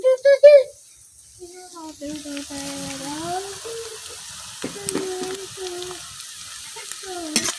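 Onion and garlic frying in a pan for a tomato and small-fish curry, a soft sizzle running under voice-like tonal sounds, with a few louder clatters toward the end.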